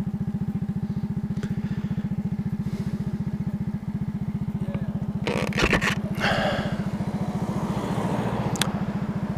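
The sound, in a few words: 50cc moped engine while riding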